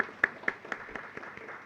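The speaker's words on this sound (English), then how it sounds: "so let's give a round of applause again for everybody" Slow, evenly spaced claps from an audience saluting panelists at an agriculture research and innovation session, faint and sparse with a steady beat and no one speaking over them.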